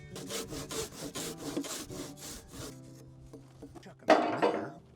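Steady rhythmic strokes of a hand saw ripping along the grain of wood, a dozen or so rasping back-and-forth passes that stop, followed by a brief scraping rustle.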